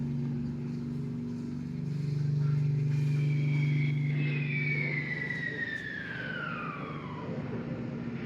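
A wartime air raid siren plays in an exhibit at Kelham Island Museum in Sheffield, its loud wail rising and falling over a steady droning hum, with no talk.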